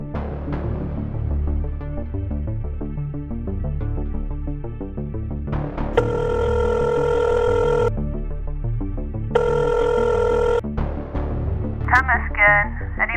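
A telephone rings twice over a speakerphone, each a steady electronic tone lasting about two seconds, set over a background of music or room noise, with a brief chirping beep near the end.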